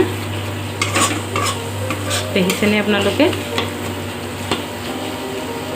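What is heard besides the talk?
spice paste (masala) frying and being stirred in oil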